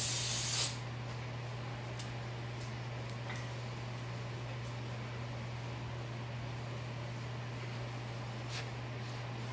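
A can of brake cleaner gives a short, sharp hiss onto an engine valve cover in a garage, then a low, steady hum carries on at a faint level.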